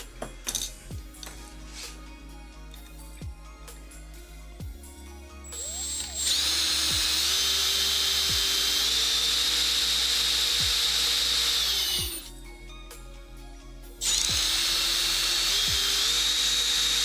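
A high-pitched rotary tool whines steadily for several seconds, stops briefly, then starts up again, with faint clicks and handling noises before it.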